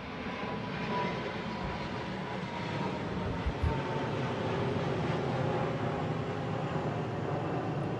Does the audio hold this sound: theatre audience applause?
no